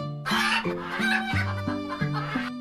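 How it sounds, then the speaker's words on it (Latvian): A cartoon rooster crows in an animated children's tale, a loud, close, stepped call with a rising and falling tonal contour lasting about two and a half seconds, heard alone without talk. "Un tad viņš sāka dziedāt kukurigū"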